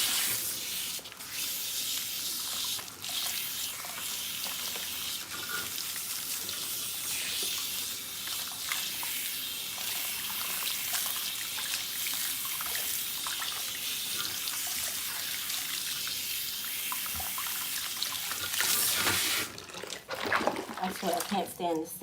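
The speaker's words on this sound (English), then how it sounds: "I'm just going to rinse this part out." Tap water runs steadily into a sink while hair is rinsed of shampoo, a broad hissing splash that keeps going throughout, ending with a few louder splashes and clunks near the end; a voice can be heard over it.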